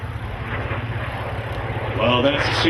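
A large aircraft, second largest of the air show day after the Vulcan, lifts off with a steady engine drone that swells louder toward the end, heard at a distance beneath a commentator's voice.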